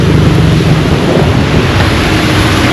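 Heavy rain pours down in Sukuta, The Gambia during the rainy season, a loud, dense, unbroken roar of rainfall close to the microphone with no voices.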